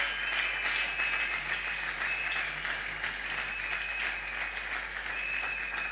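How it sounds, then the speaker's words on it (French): A church congregation applauds steadily as preachers enter, a dense continuous clapping that holds at an even level throughout. "Est-ce qu'on peut acclamer pour l'entrée des hommes de Dieu?"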